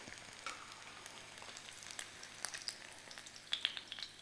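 Filipino tocino frying in oil in a pan gives a soft, steady sizzle with faint crackles and pops throughout, heard alone at moderate distance with no talk.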